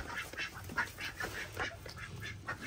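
Ducks quacking outdoors in the rain, several short nasal honks repeated at an uneven pace, moderately close with background hiss.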